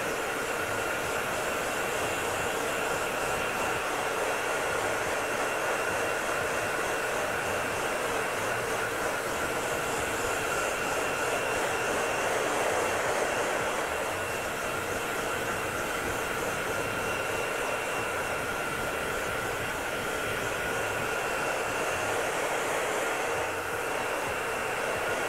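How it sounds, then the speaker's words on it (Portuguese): A hair dryer on its hot setting blows steadily at high power, a continuous loud whooshing roar with no pauses, close to the listener. "E lembrando que o secador na temperatura quente"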